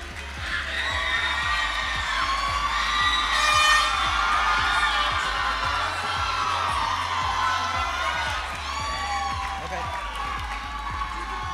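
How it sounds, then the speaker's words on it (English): Pageant audience at Miss World Guam 2017 cheers and applauds as semifinalists leave the stage, a sustained loud crowd roar with whoops, shouts and steady clapping throughout. "Please give them a round of applause as they exit the stage."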